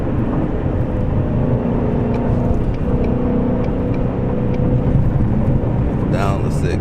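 Mustang GT350 with a manual transmission running steadily through a gear change from fourth to fifth, a loud, continuous low engine rumble with a brief dip in tone partway through, no voices present.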